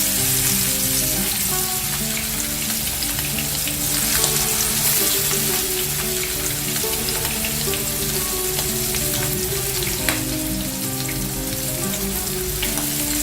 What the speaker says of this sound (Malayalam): ഇനി നമുക്ക് നേരത്തെ മിക്സ് ചെയ്ത് വെച്ച ഫിഷ് വറുത്തെടുക്കാം.